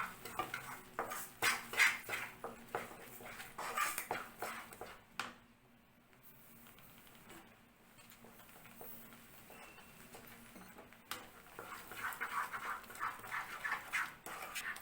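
Sugar mixture being stirred in a pan, giving repeated soft scraping and clinking strokes of a utensil against the metal, busier at the start and end with a quieter stretch in the middle.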